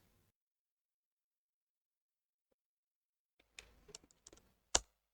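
A burst of computer keyboard typing enters a quiet room after several seconds of silence, a handful of close, sharp key clicks in an uneven short run.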